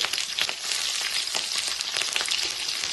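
Mustard seeds, chana dal and green chillies frying in hot oil, a dense crackling sizzle with scattered sharp pops, close and steady throughout.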